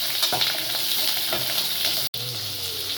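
Curry leaves crackle and sizzle in hot oil for a drumstick sambar, a steady close frying hiss with a few stirring scrapes and a brief dropout near the end.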